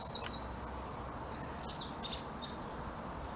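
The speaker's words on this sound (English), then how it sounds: "the birds are really going at it, aren't they?" Birds sing outdoors in the background, bright high chirps and warbling phrases repeating over a soft, steady ambient hiss, fairly distant and moderate in level.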